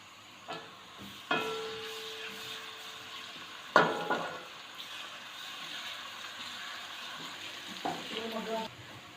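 Ginger garlic paste frying in oil for an arvi (taro) masala makes soft, intermittent sizzle bursts, with occasional clinks from stirring a pan in a quiet kitchen.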